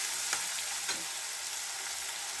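Onions frying in hot oil with popped mustard seeds for a curry leaf and coriander thokku, a steady close sizzle with a couple of faint stirring scrapes, no voices.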